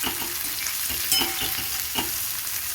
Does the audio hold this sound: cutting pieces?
no